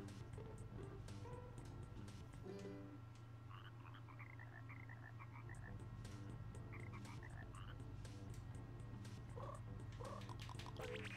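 Frog croaking in the video game Chibi-Robo, repeated croaks and warbling calls over a steady low game hum and background music, fairly faint throughout.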